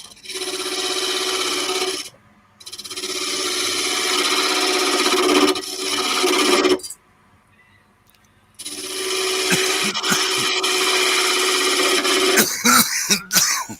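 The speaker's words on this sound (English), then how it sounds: "You're just wiggling the chisel around instead of making a definite cut" A steel chisel cuts into wood at a woodworking bench, making three long, loud rasping strokes separated by short pauses, followed by a few sharp knocks and scrapes at the end.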